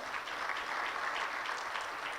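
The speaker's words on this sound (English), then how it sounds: "give God a hand clap" A congregation at a Sunday church service gives a steady round of hand claps, even and continuous but faint and distant-sounding throughout.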